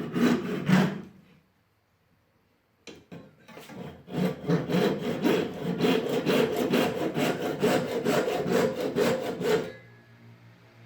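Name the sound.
sawing to cut a viola saddle blank near the marked measure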